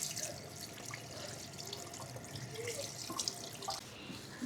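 Cold tap water running steadily into a sink while pork is rinsed for sinigang, a continuous moderate rush with small splashes and drips, close by and without talk.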